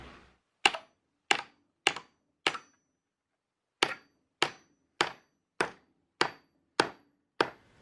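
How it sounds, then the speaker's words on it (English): Nails are driven into wooden boards with an old axe head, building a box table off the grid: eleven sharp, ringing whacks, four evenly spaced, a pause, then seven more in a steady rhythm, loud and close. "I'm using an old axe head to hammer in all the nails"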